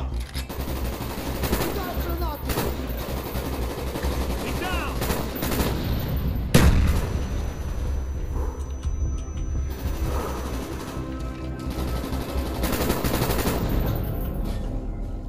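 Sustained automatic gunfire and bursts of shooting in the Call of Duty Black Ops war game, dense and loud throughout with a sharper blast midway, and battle chatter mixed in.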